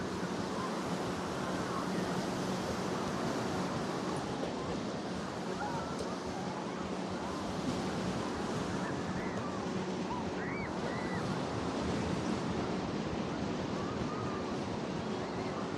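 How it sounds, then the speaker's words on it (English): Ocean waves breaking steadily along a California beach, a continuous loud wash of surf mixed with wind buffeting the microphone and no clear separate breaks, with no talking. "I love the sound of the beach."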